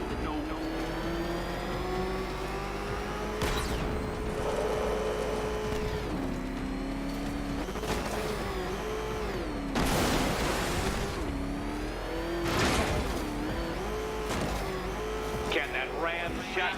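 A ramshackle car engine in Batman: Arkham Knight revs with a steady whine that rises and dips through gear changes, punctuated by several loud bursts and whooshes, while voices talk over it.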